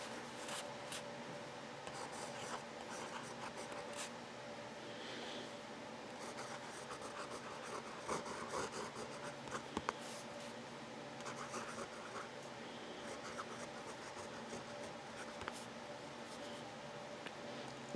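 A broad number 6 Jowo nib on a fountain pen scratches steadily across paper, laying down Smith Cosmic Dust ink in a continuous, faint, close-up rasp with no talking.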